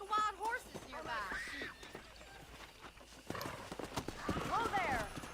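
Hooves of wild horses clip-clop at a gallop in the Red Dead Redemption video game, with whinnies and neighs rising over the running. Close, busy bursts of hoofbeats come in two waves, and voices sound briefly.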